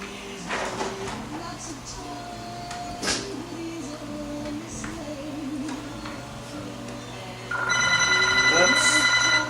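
A telephone rings with an electronic trilling tone amid kitchen clatter during Christmas quiche preparation, growing louder and more insistent toward the end.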